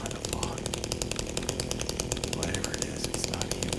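A chainsaw in the Silent Hill 2 video game runs with a rapid, pulsing buzz that stays steady and moderately loud throughout.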